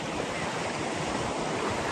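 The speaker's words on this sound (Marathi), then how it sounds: "बघा लाट आले" Sea waves break and wash along Malvan beach in a dense, continuous roar of surf, close and steady, with some wind noise.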